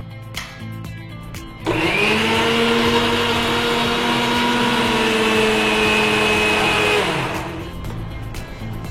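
A kitchen mixer grinder whirs loudly and steadily for about five seconds while blending curd with salt and pepper, starting abruptly and spinning down at the end, with no talking.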